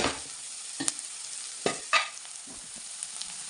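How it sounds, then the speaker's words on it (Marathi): Cumin seeds drop into hot oil in a pan for Baglani-style poha and sizzle softly, with a few sharp crackles and pops over a quiet, steady frying hiss. "त्याच्यानंतर आपण इथे जिरं टाकणार आहोत"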